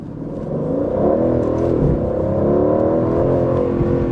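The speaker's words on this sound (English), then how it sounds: "Aston Martin, they know how to tune an exhaust." Aston Martin Vantage exhaust revving hard from close by, a loud deep throbbing roar that climbs and sweeps in pitch as the throttle rises and holds.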